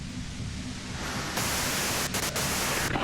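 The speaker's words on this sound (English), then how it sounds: "you can do it through the white noise" Steady broadband static hisses from a radio in the video game Disco Elysium, loud and continuous with slight shifts in level and a few brief dropouts, with no voices.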